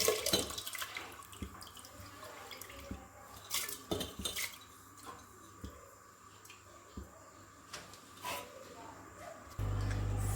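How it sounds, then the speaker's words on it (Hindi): Water is poured into a clay pot of washed dal on a high flame, with light splashing and clinks of metal utensils. A person talks over the kitchen sounds. "ये थोड़ा सा पानी है, ये भी हम बीच में डाल देते हैं।"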